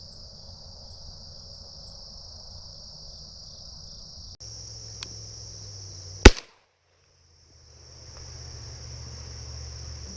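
Shotgun shot at a dove while hunting outdoors, a single sharp loud blast over a background of steady insect chirping, followed by brief silence before the crickets resume.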